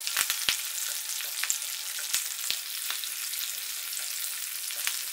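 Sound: mustard seeds and green chillies frying in hot oil

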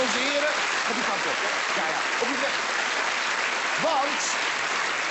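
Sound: audience applause

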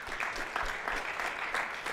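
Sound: audience applause for the jazz ensemble horn section

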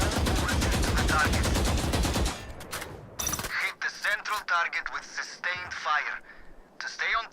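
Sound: gunfire from a video game shooting tutorial

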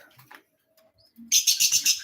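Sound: pet birds chirping

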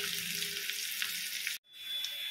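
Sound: jackfruit pieces frying in oil

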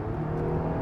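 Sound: 3rd gen Toyota Avalon accelerating to test passing power

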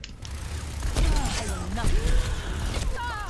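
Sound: Bastion shooting at the player in the video game Overwatch

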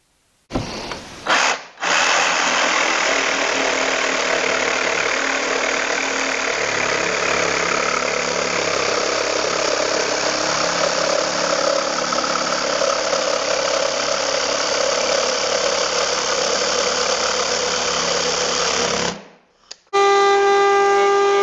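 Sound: drilling pocket holes in cedar for a blanket chest

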